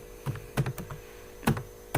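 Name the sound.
typing on a computer keyboard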